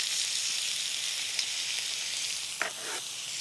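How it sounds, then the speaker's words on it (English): Cheesesteak meat searing in a hot pan gives a steady, bright sizzle throughout, with a couple of brief clinks near the end. "You want these to kind of sear up and cook very quickly."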